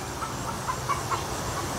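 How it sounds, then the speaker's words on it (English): A chicken clucks a few short, soft notes at a middle distance over a steady low background hum, with no voices. "Just a chicken."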